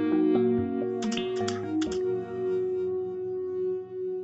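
Typing on a computer keyboard is heard as a short burst of quick key clicks over a held musical drone, with no voices.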